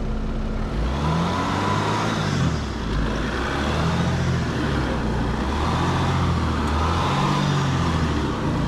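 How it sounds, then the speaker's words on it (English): A diesel truck engine on a dusty off-road trail drones loud and close, its pitch swelling and easing in repeated revs under a constant rumble. "Come on, give us some diesel."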